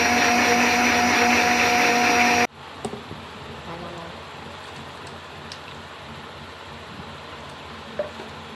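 Blender grinding black pepper, ajwain, dried chillies and tandoori masala whirs loudly and steadily for about two seconds, then cuts off abruptly, leaving faint room noise with a few light clicks.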